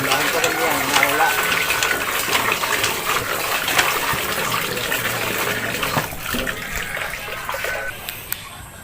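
Water gushes steadily into a bucket outdoors, a continuous loud splashing rush that stays close throughout, with faint voices underneath.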